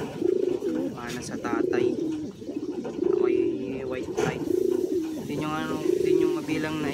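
Pigeons cooing close by in a loft, a repeated rhythmic low cooing phrase about every second and a half, loud and steady, while someone talks over it.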